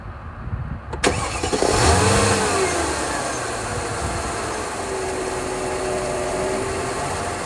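A 2003 Mercedes-Benz SL 500 roadster with under 68,000 km cranks briefly and fires up, settling into a steady, smooth idle heard up close with no talking.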